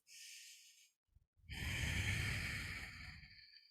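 Deep breaths during a yoga pose: a slow audible exhale, a brief pause, then a longer, fuller breathy sigh, close and quiet, with no talking.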